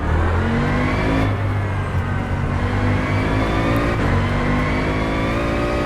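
A Bentley GT3 race car in the rFactor 2 sim, engine droning loudly and continuously with a rich harmonic hum, held steady throughout with only slight shifts in pitch.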